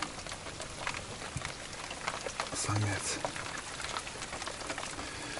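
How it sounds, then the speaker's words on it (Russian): Steady rain patters and hisses without letup on a marsh at night, with a brief low thump partway through and someone speaking a single short word. "Сейчас чуть-чуть дождь перестанет"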